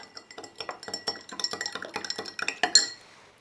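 A metal spoon clinks rapidly against a glass while stirring sugar into water, a quick run of bright, close ringing taps over about three seconds that ends abruptly.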